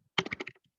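Quick burst of typing on a computer keyboard with an English layout, about five or six crisp key presses in under half a second, close and clear with no talking.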